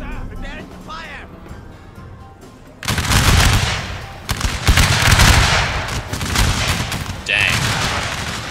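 Gunfire crackles through a video game battle, a dense barrage of overlapping shots and bursts that erupts after a quieter opening stretch and continues in loud waves, with voices mixed in.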